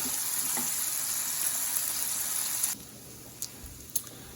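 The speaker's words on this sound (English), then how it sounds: "that bacon's crisping up just the way we like it" Bacon crisps on a Blackstone 17 inch E-Series electric griddle, a bright steady sizzle that drops away sharply after a few seconds, leaving a quieter background with a couple of soft knocks.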